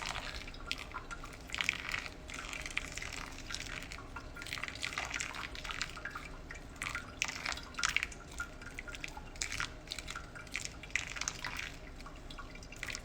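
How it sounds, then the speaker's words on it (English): Pour-over coffee drips steadily into a vessel, a close, continuous patter of small irregular drops and trickles running without pause, with no voices over it. "This is where I run out of patience for the pour over."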